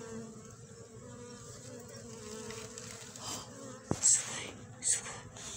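A steady swarm of Japanese honeybees drones around a hive during an autumn inspection and cleaning, with brief handling knocks and faint whispered talk toward the end.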